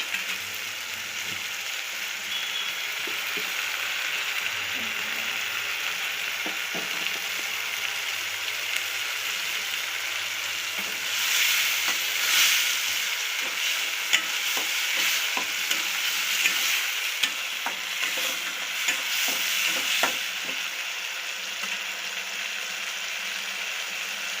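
Onions and tomatoes sizzle steadily in a pan while being stirred, a continuous close frying hiss with scraping stir strokes that grow busier midway, no voices.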